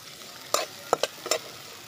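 Whole garlic, chopped onion, chopped ginger and a bay leaf fry in oil with a soft sizzle, and four quick, close spatula scrapes and knocks come in a short burst.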